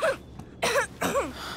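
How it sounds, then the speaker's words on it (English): A character coughs from the cold in the video game Life is Strange 2, with three short, harsh bursts and a throat-clearing rasp close up and alone. "that cough doesn't sound too good"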